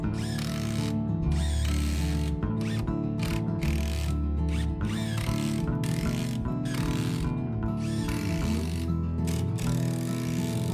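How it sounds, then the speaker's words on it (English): A power drill drives screws into wooden supports of a straight Japanese-style staircase, making a continuous whirring motor drone with repeated ratcheting bursts as each screw bites, close and steady, no talk. "drive in 3 more screws from the bottom side to make it sturdy"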